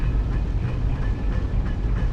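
A mine cart rolls along rails in Skyrim with a steady rumbling clatter and rhythmic clicking over the track, loud and continuous throughout the short span, with no voices.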